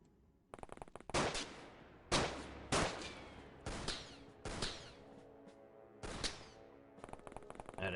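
SMG gunfire in the video game The Xcom Files, loud bursts of rapid shots arriving in about six clusters with short gaps between them, each burst trailing off into a reverberant tail.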